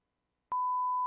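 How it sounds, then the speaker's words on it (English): A steady pure test tone from the test oscillator in music production software switches on abruptly after a brief silence and holds at a constant level, loud and unbroken. "Test oscillator, here we go."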